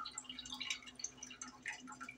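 Water is poured into a cooking pan with garlic for a four-cheese casarecce pasta, making faint, close trickling and dripping splashes in an irregular patter.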